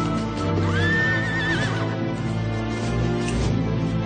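A horse whinnies loudly, its rising, wavering cry standing out over a dense, rumbling background of movement and commotion.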